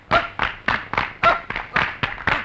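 Audience clapping in quick bursts at a Malayalam film scene's public gathering, several sharp irregular rounds of hand claps, fairly close and loud, with no voices over them.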